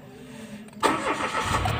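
A car's engine cranks and catches after its battery is replaced, a quiet lead-in broken by a sudden start near the middle that settles into a steady running hum.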